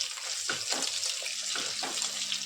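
Egg paneer pieces fry in hot oil in a pan as they are turned one by one, a steady close sizzle with soft scraping strokes of a spatula recurring every second or so.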